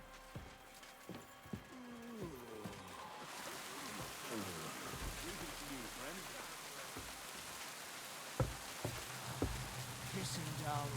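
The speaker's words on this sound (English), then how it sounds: "Pissing down rain." Steady heavy rain in the video game Kingdom Come: Deliverance II hisses throughout, with scattered sharp taps and thuds, and voices talking over it in the first part.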